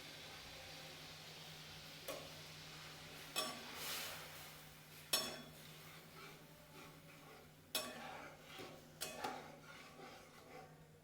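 Spoon stirring sambar masala into dal in a metal pot, giving a few sparse clinks and scrapes against the pot over a steady low hum, fairly quiet and without talk.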